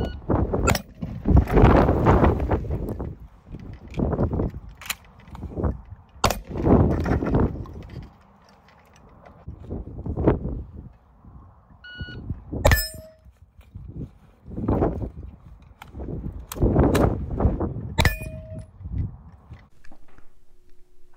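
Shotgun and pistol-caliber carbine fire during a one-reload-one drill comes as sharp, loud reports in separate bursts, with ringing metallic clangs and pauses between strings of shots.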